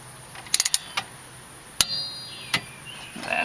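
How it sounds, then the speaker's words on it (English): Mechanical clicks and ratcheting from a torque wrench tightening the rear brake caliper guide pins to 26 foot-pounds on a 2002-2007 Dodge Grand Caravan or Town and Country, with a quick burst of sharp clicks, then isolated metallic ticks close by. "you want to torque those guide pins down to"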